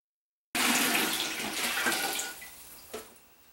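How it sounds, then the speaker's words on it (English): Chlorine-free purified water pours from a gallon jug into a brewing pot in a home kitchen, a sudden loud gushing splash that slowly thins to a trickle, with one brief slosh near the end. "So I did pick up 3 gallons of purified water here, chlorine-free, good drinking water."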